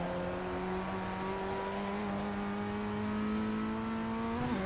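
A Ray FF1600 Formula Ford race car in the iRacing sim, flat out in third gear: a steady, loud, buzzing engine drone whose pitch climbs slowly under full throttle, then drops abruptly at the end.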